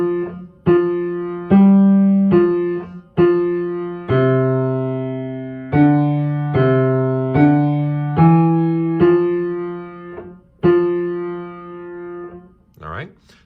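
Piano plays the second system of Good King Wenceslas, a slow beginner's passage of sustained notes and chords struck one at a time with a steady beat, close and clear, ending in a brief shuffle.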